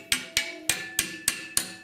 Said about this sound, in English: I'm just making very light taps.